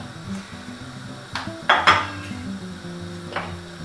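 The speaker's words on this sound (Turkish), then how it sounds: "Şimdi karıştıralım." Spoon stirring cream into mushroom soup in a metal pot, with scraping and a couple of clinks against the rim, close by and moderately loud for a few seconds.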